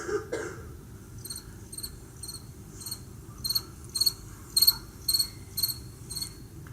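Rhythmic cricket chirps in a clear, bright song, evenly spaced pulses growing slightly louder, heard alone against a low background hum.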